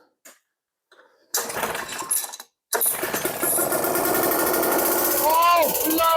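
Vintage British Seagull 40 outboard motor running out of gear after some hesitant sputters, settling into a loud, rough, rattling drone close by, with a person's voice exclaiming over it.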